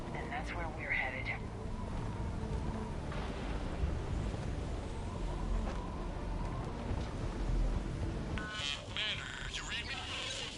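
Thunderstorm in the video game Mass Effect 3: steady dense rain hiss with low rumbling thunder throughout, loud and continuous, with voices speaking over it briefly near the start and again near the end.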